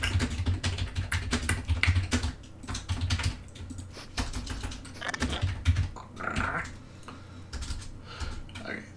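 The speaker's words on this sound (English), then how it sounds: "Soft clicking sound." Soft creature clicking from the video game Pillars of Eternity, a quick run of light clicks and ticks repeating close up over a low background rumble, with no voices over it.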